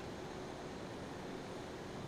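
F-14D Super Tomcat jet engine in the MSFS2020 flight simulator, a faint, steady broadband roar that holds evenly throughout with no breaks or changes.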